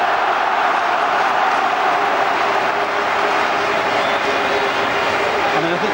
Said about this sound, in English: I mean, I think the crowd are reacting